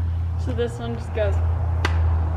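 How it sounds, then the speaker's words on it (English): A riding whip is swung and cracked once, giving a single sharp snap just after a stretch of talking, with a steady low hum running underneath. "Let's see which whip is more useful."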